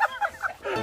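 A native chicken clucks inside a coop, giving three quick, close clucks followed by a longer, drawn-out call in under a second.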